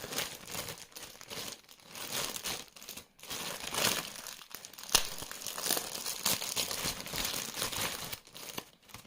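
Thin plastic packaging bags from a lost Amazon parcel crinkle and rustle continuously at close range as they are unpacked and handled, with occasional sharper tearing sounds and no talk.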